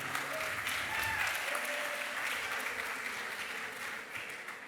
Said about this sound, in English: Another round of applause to your new president and CEO